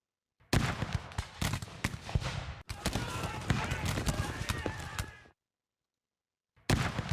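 Musket volleys in the Napoleonic strategy game Victory & Glory Napoleon, dense rapid cracks of gunfire piling into a continuous rattle, cutting off into near silence before another burst starts at the end.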